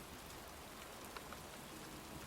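Steady rain effect from the video game Heavy Rain, a soft continuous hiss of falling rain with a couple of faint drop ticks, low in level and without voices.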